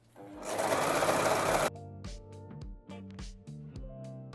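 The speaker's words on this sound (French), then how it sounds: "On va coudre l'autre côté." A sewing machine runs in a fast continuous burst of stitching on a Burda top, then slows to short, stop-start runs with clicks and motor whine between stitches, close and loud with no talk.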